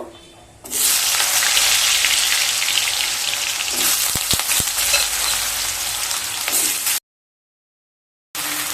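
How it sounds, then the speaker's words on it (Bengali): Squared ridge gourd pieces drop into hot oil and fry with a loud, steady sizzle that holds for several seconds, with a few sharp clinks partway through, then cuts to silence before the frying resumes. "তেলটা গরম হয়ে গেছে, এবার চিচিঙ্গেগুলোকে ভেজে নেব।"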